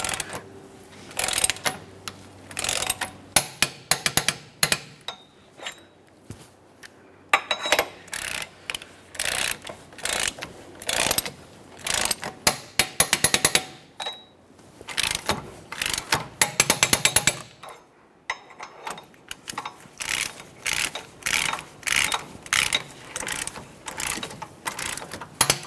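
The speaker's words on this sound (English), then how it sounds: "Now we can torque this to 66 foot-pounds as I mentioned." A hand ratchet torques the rear wheel hub bolts on a 2011-2020 Toyota Sienna, rapid close clicking pawl strokes in repeated bursts with brief pauses between them.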